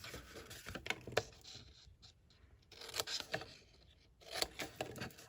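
Quiet scissor snips and paper rustling as card stock for a simple birthday card and gift box is trimmed, a few short crisp cuts separated by pauses, close and faint.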